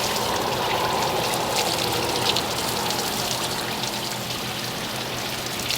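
Steady water spray rinses the engine bay of a Ford Crown Victoria, a continuous close hiss and splatter holding an even level throughout with no voices.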